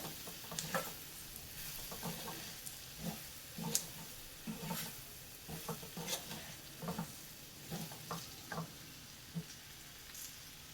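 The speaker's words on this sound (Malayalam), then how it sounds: "എന്നിട്ടൊന്ന് നല്ലതുപോലെ ഇളക്കി കൊടുക്കാം" Ivy gourd pickle being stirred in a pan after the flame is turned off, with soft scraping strokes and faint residual sizzle, close and fairly quiet, repeating at an irregular pace.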